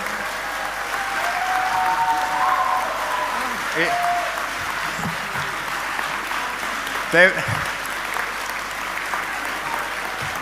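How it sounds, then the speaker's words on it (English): Audience applause at an awards ceremony, a sustained bed of clapping lasting about ten seconds at moderate loudness with faint background noise. "Round of applause for Malcolm."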